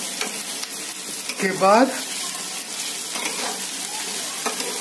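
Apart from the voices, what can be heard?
chicken with onions being stirred and fried in a pan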